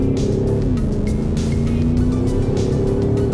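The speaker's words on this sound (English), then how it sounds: "Time to feel how this car goes about using its 900 newton meters of torque in a 0 to 100 dash." A 2021 Audi SQ7 with 900 Nm of torque accelerates hard from 0 to 100, its engine a loud, steady drone heard from inside the cabin, with a rising tone throughout.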